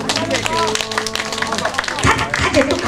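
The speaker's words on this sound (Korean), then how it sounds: "박수 박수" At a community festival stage show, an audience claps along to live trot singing. The clapping is close, busy and uneven, mixed with music, voices and crowd chatter.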